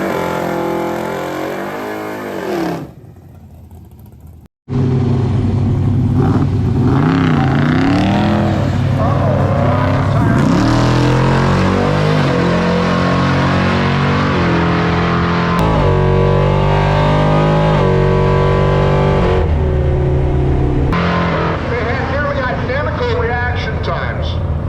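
A Mopar drag race car launches in the first round of a bracket race, its engine roaring loud and close, winding up through rising gear pulls with a brief cut to silence near the start, sustained and powerful throughout.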